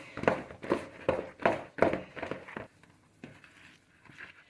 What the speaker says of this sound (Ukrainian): О, оце так вимішу зараз ложкою.